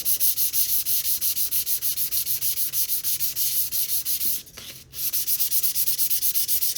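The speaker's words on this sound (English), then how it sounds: "It's just sanding really nice." Steady rhythmic sanding strokes rasp back and forth, a quick regular scrubbing of fine sandpaper over bole on an icon panel, with a brief pause near the end.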